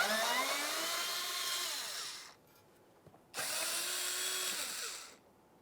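A power tool removes T25 Torx screws from the plastic wheel well liner of a 2011-2018 Volkswagen Jetta: two loud whirring bursts with a short pause between, pitch sliding as each screw spins out.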